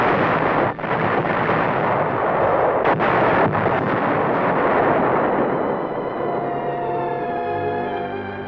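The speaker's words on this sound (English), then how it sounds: "tanks are demolished" Explosions demolishing surrendered Japanese tanks during disarmament, heard as a sustained heavy roaring blast with rumbling debris that slowly fades, loud and harsh on an old newsreel soundtrack.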